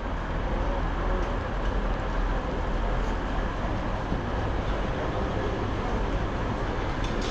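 A passenger train on the Iași line, with mixed red and blue cars, gives a steady, loud, unbroken rumble throughout.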